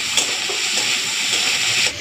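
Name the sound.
potatoes and prawns frying with broth in a pan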